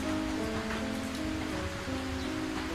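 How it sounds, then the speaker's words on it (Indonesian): Steady rain falls in a scene from an animated film, a continuous dense hiss throughout with soft sustained tones running beneath it. "Dengar suara hujan begini"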